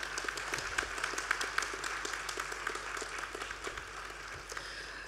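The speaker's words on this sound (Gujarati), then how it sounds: "એ દીકરીઓને તાળીથી વધાવી લો એક વખતે" An audience applauding young Bharatanatyam dancers at an arangetram performance, a fairly quiet but continuous spread of hand claps with individual sharp claps standing out, carrying on steadily throughout.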